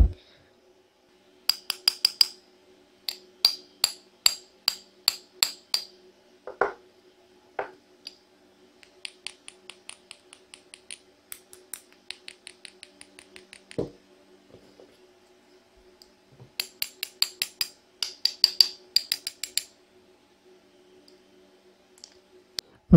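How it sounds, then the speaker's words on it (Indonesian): A lightweight counterfeit rechargeable battery, labelled 5000 mAh but testing at only 420 mAh, shaken and tapped, giving bursts of quick light rattling clicks in several clusters with pauses, close and fairly quiet, no talk over it. "Baterai ini ringan dan suaranya itu seperti ini."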